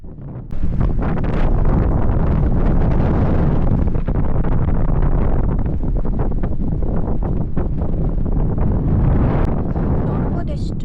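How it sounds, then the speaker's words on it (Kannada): Strong wind on a hilltop at Jogimatti hill station near Chitradurga, a loud continuous buffeting roar battering the microphone for nearly the whole stretch, with no pause in the gusts. "ಮೇಲ್ಗಡೆ ಅಂತೂ ಫುಲ್ಲು ಗಾಳಿ ಬರ್ತಾಯಿತ್ತು"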